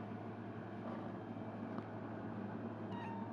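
A pet cat meows faintly a couple of times indoors over a steady low background hum, with no talk.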